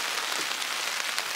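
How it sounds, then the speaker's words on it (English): Rain drumming steadily on an umbrella held outdoors, a dense, even patter close overhead with scattered sharper drop hits and no talking. "It's raining right now."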